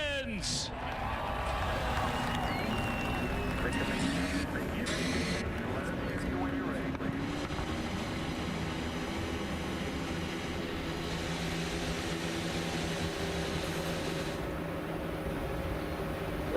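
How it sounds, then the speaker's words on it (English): A field of 25 IndyCar race cars fires up on a street circuit in Detroit, a dense, continuous roar of engines at a constant loud level, with an announcer talking over it. "Engines come to life on the 25 cars that are about to take the green flag"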